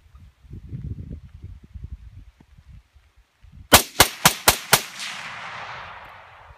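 Five loud, close rifle shots fired with a Bestiarii threadless muzzle brake, evenly spaced about a second apart, each sharp crack trailing into a lingering outdoor echo, after quiet low rustling.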